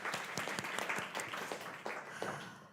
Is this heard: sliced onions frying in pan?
no